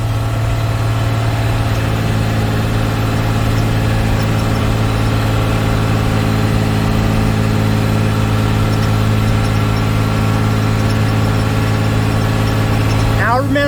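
A Cummins 12-valve diesel in a rollback truck drones loudly and steadily while pulling up a hill, a constant heavy engine roar under road noise with a brief clatter near the end.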